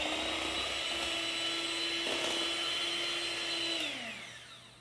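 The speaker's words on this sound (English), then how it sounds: "then I'm going to mix it all together" An electric mixer whirs steadily as it blends banana nut muffin batter with flour, a high constant motor whine that drops in pitch and fades as it winds down near the end.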